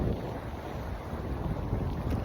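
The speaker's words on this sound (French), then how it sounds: "il y a beaucoup de vent" Strong wind buffets the microphone at a harbour, a constant low roar and gusting rumble, with water and boat sounds blended faintly underneath and no voices.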